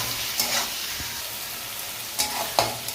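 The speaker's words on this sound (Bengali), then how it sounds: "এবার চিংড়ি মাছটা আমরা এই পেঁয়াজের সাথে ভেজে নেব।" Peeled shrimp coated in salt and turmeric fry with onions in a pan, giving a steady sizzle with a few sharp spatula stirs and scrapes.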